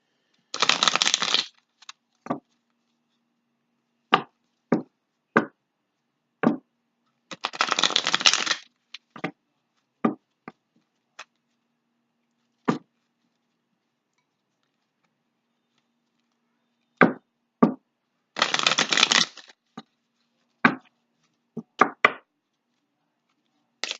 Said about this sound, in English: These cards are just flying out for you.